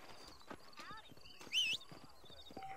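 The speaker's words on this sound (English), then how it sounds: "we're gonna need to get a horse first" Horse hooves clip-clop in the Red Dead Redemption game on Xbox 360, a steady rhythmic trot mixed with game ambience, a brief whinny-like call and faint talk.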